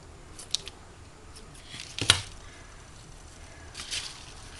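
Scissors cut through cereal-box cardboard as a basket is made, with a few quiet snips and one sharper crunching cut in the middle against a hushed room background.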